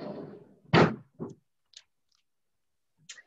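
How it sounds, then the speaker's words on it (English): A door is pushed shut with a single muffled thump, followed by a few faint clicks and small knocks in a quiet room. "I'll shut the door."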